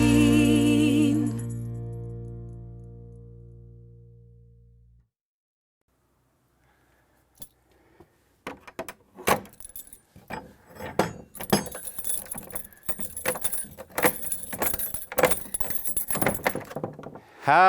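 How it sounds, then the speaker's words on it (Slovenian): Metal keys, including a large old key, jangle and clink repeatedly in irregular bursts close by, after a fading sustained tone and a short pause. "Takole, vidite? Tale ključ, to se pa reče Petrov ključ."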